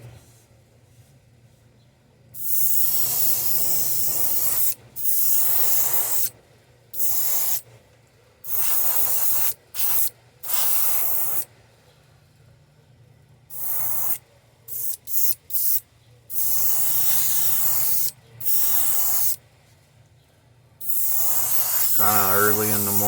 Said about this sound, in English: If my airbrush will spray.